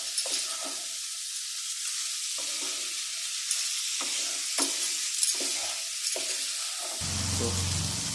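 Masala mixture with parwal being stirred and sizzling in a pan for a fish and moong dal curry, a steady hiss broken by repeated scraping stirs, then a low hum near the end.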